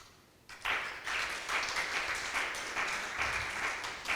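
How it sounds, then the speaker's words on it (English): Audience applause at a tourism congress workshop in Thessaloniki, starting abruptly after a quiet moment and continuing as steady, fairly distant clapping from a room full of people. "You hear the applause"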